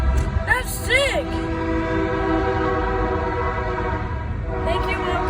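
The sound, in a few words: train passing and sounding its horn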